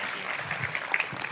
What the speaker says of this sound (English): if we can give Max a massive round of applause.